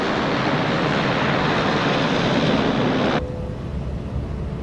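A Beechcraft BE60 Turbine Duke taxis in a flight simulator, its engines giving a steady, loud broadband roar that drops abruptly to a lower, quieter hum about two-thirds of the way through. No one speaks.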